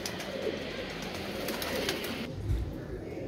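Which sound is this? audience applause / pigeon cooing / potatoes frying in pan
pigeon cooing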